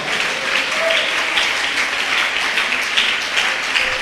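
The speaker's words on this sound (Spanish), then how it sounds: "Dele el aplauso al Señor" Congregation in a church applauding steadily, a dense, even wash of many hands clapping that carries on without pause.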